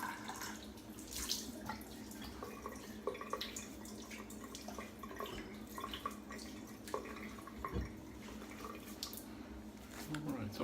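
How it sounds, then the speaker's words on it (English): Alum block rinsed under a running bathroom tap during a wet shave, a steady wash of flowing water with scattered drips and splashes, close and continuous throughout. "Rinse the alum."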